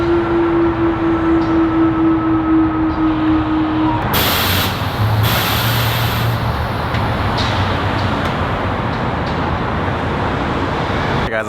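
Steady roar of heavy freeway traffic nearby in Los Angeles, with a low hum early on and a brief hiss of air brakes partway through, no voices.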